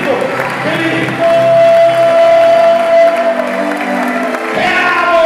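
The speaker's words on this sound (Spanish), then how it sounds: "¡Aplauda fuerte al más grande de todos!" A church congregation applauding loudly, a sustained wash of clapping and cheering with a held tone in the background, joined by shouts from the crowd.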